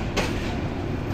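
A Mahanagar Express passenger train runs near Akhaura junction while rounding a large curve, heard from on board as a continuous loud rumble and rattle of the carriage with a brief hissing burst, no speech.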